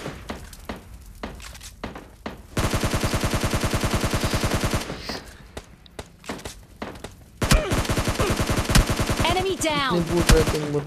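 Gunfire rips through a PUBG Lite match against bots, with bursts of rapid automatic fire and scattered single shots over about eleven seconds, loud and close, along with impact and breaking sounds.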